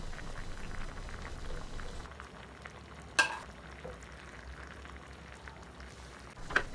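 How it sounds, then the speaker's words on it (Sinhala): A potato and egg curry bubbles quietly in a pot on the stove, a soft steady simmer broken by two sharp spoon clinks against the pot while it is stirred. "මේ විදිහට හැන්දෙන් මිශ්‍ර කරමින් හොද්ද උතුරන කල් ලිපේ තියාගන්න."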